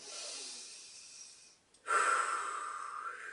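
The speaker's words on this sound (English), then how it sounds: "So start with deep breaths" Deep, slow breathing, one long airy exhale trailing off into a short pause, then a strong rushing inhale that carries on steadily, close to the mic with no talk.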